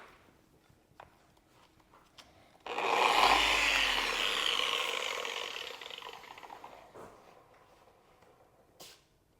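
A machine polisher spins up and works polish into car paint during paint correction, a steady loud whirring that rises suddenly, holds for a few seconds, then fades and stops.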